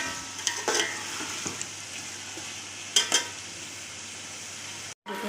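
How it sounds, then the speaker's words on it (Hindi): Potatoes fry in a pan with a soft, steady sizzle while a spoon stirs them, producing a few scraping clinks near the start and around the three-second mark; the sound is close and fairly quiet. "आलूओं को थोड़ा सा फ्राई करना है"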